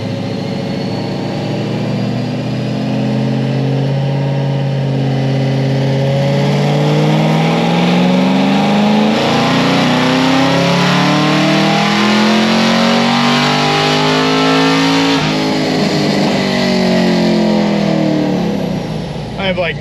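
A tuned car on 93 octane fuel and low boost revs hard through a power run, its engine note climbing steadily and loudly in pitch, dropping briefly, then rising again to a sustained roar.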